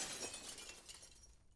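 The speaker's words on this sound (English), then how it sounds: "Sounded like some glass shattering." Glass shattering in the horror video game The Crimping, a brief bright crash with scattered tinkling fragments that fades out within about a second and a half, fairly faint.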